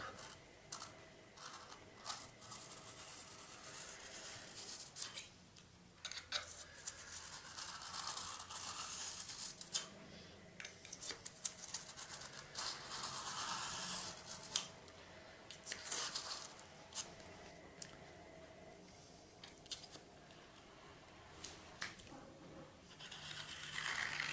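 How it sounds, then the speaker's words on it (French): Foam board cut carefully by hand for a 1:35 scale paved road with a raised sidewalk: quiet, close, irregular scratchy slicing and tearing strokes that continue for the whole stretch, with no voices. "Allons donc délicatement procéder à la découpe."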